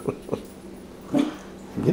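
A dog whimpers and yips in short separate bursts, three or four brief whining cries spaced apart over a quiet background.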